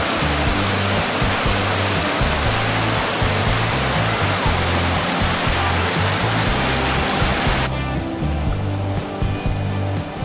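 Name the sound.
waterfall of the Vrelo river flowing into the Drina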